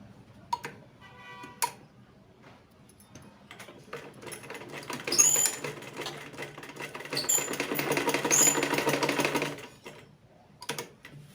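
A sewing machine stitching cord piping, its needle running in a quiet rhythmic clatter that builds to a longer steady burst in the middle, with scattered clicks of handling before and after.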